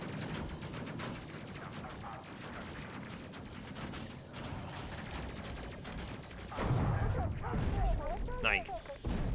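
Weapon fire in the space game Space Crew: dense, continuous rattling bursts of ship guns with crashing impacts, growing louder and heavier toward the end, while a player talks over it.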